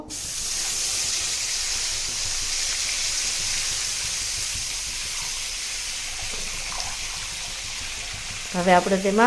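A steady, loud hiss of water hitting a hot pan of turmeric and red chili powder, continuing for several seconds before a voice briefly starts at the end.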